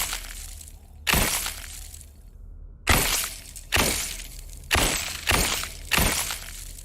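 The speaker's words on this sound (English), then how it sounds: "today we're talking about the Cold Bullet from Wizard with a Gun" Cold Bullet shots from the video game Wizard with a Gun ring out as six sharp, icy, shattering bursts with bright crackling decays, irregularly spaced over a faint background.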